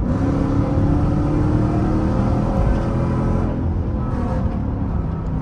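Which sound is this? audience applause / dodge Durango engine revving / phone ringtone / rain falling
dodge Durango engine revving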